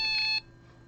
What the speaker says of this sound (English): Alarm's going